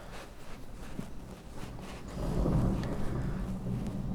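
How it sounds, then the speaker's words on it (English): Thunder rumbles through a storm, a steady low roar that swells louder halfway through, with rain-like hiss and wind noise underneath. "There's lightning, thunder again."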